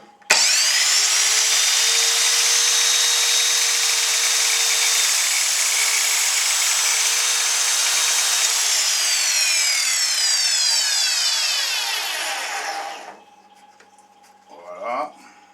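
An Evolution R210CMS mitre saw makes a straight cut: a loud, close, steady high whine for about twelve seconds, then the blade spins down and trails off into a few quiet clicks.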